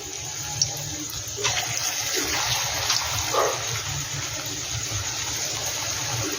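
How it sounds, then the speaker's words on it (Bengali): Bora fritters of green banana and mung dal frying in hot mustard oil, a steady hissing, bubbling sizzle that runs continuously at close range with no talking. "এবার এটা বড়া টাইপের করে নিয়ে আমি ভেজে নিচ্ছি।"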